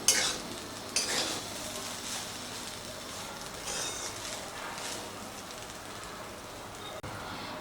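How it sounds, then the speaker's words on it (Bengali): Onion rice with chopped coriander is stirred in a pan, giving a continuous soft scraping rustle over a light sizzle. A few louder scrapes stand out near the start and end. "ধনেপাতা দিয়ে ভাতটাকে একটু নাড়াচাড়া করে নিয়েছি।"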